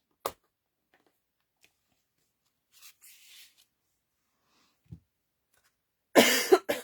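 A single person coughs several times, with a sharp cough at the start, softer rustles in the middle, and a loud, rough burst of coughing near the end, close to the microphone in an otherwise quiet room during a card-making session.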